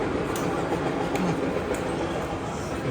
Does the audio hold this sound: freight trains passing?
yes